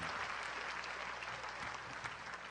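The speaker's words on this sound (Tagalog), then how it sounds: "Ibigay ang matunog na palakpak sa Diyos na kasama natin" A crowd at an El Shaddai religious gathering applauds steadily, a dense wash of clapping from many hands that holds at an even level throughout.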